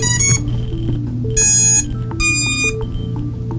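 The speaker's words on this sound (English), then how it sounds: "the first time you plug it in, the beeper is going off" A drone flight controller's beeper on a Magnum tower stack sounds right after first power-up, giving a series of loud, close electronic tones in short repeating bursts over a steady low hum.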